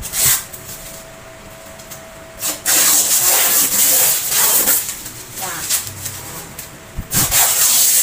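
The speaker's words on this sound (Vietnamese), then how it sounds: "Rồi tiếp theo chúng ta sẽ tháo cái màn nhựa bảo vệ cái nồi chiên không dầu của chúng ta ra ha." Protective plastic film being peeled off a new air fryer: close, crackly rubbing and hissy tearing bursts that come and go over several seconds, with no voices.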